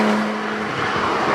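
Porsche 911 GT3 RS with a 4-litre flat-six engine, its loud, sustained rasping tone holding steady throughout with a faint tyre squeal underneath.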